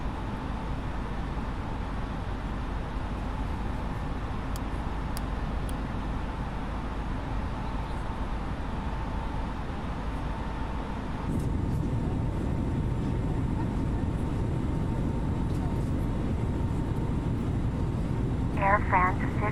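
Airbus A320neo engines at climb thrust in Microsoft Flight Simulator give a steady, loud broadband roar that runs throughout and swells slightly in the second half.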